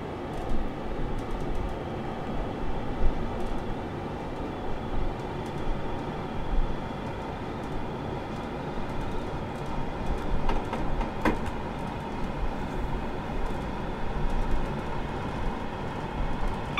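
A train accelerates along the Warrington Bank Quay to Liverpool Lime Street route in Train Simulator, giving a steady, loud rumble of engine and rolling wheels throughout with faint rail clatter and no voices.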